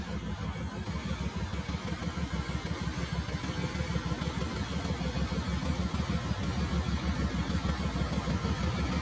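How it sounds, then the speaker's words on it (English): A Voge DS800X motorcycle engine runs at a steady idle with an even, rapid mechanical pulse and light clatter, close and continuous with no voices. "Let's play the engine sound for you to hear"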